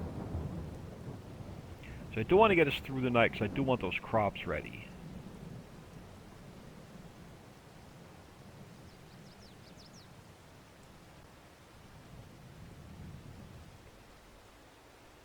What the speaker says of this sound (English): Not sure how much rain, how much longer in-game hours it's going to rain